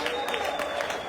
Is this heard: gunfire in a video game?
no